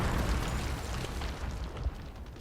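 A grenade blast in Wolfenstein (2009) booms loud and close, a dense rumbling burst that fills the whole moment before fading into a lingering roar.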